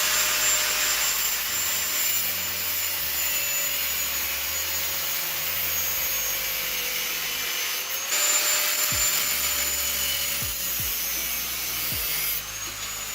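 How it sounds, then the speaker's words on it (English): Power tool drilling off excess metal from a seat rail slider mechanism, a steady high-pitched whine that holds continuously with a few short pitch dips and low knocks, no voices heard. "we just drilled off the excess material"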